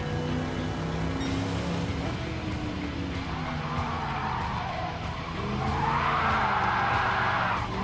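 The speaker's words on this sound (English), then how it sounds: "The engine sounds great." Firebird engine in a racing video game on the Trial Mountain track, a steady loud engine roar with tire skidding, rising in pitch and intensity toward the end, with no talk.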